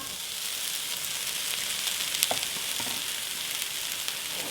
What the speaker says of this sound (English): our vegetables have been sauteing for about 5 minutes and they're now soft